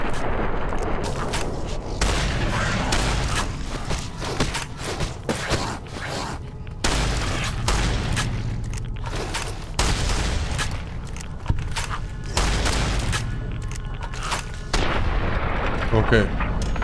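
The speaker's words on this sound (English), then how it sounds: "Weapons. Caravan shotgun." Caravan shotgun in Fallout New Vegas fires repeatedly in dense, booming blasts that run almost continuously, loud and layered with other combat noise and a voice talking at times.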